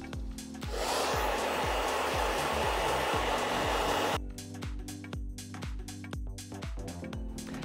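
A hair dryer blows on hair just rinsed after a Brazilian smoothing protein treatment, a loud steady whooshing roar for about four seconds before cutting off, followed by softer rhythmic clicks and knocks.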